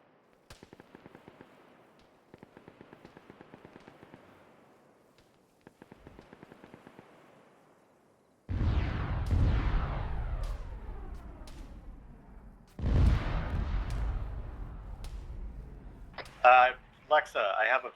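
Arma 3 combat with automatic gunfire: short rattling bursts early on, then heavy booming shots and explosions with long echoing tails, close and loud, with radio chatter over the top.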